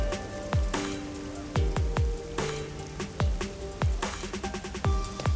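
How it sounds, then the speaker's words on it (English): Rain in the video game Rain Code falling over a busy neon-lit city district, a steady hiss with repeated sharp percussive hits and tonal game sounds layered on top. "The neon looks magical blurred in the rain."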